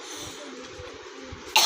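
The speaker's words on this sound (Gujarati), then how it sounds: "આ કોરી ખાંસી હમણાં તો બહુ જ આવે છે" A single short, dry cough bursts out sharply at the very end after a quiet stretch of faint breathing and room noise.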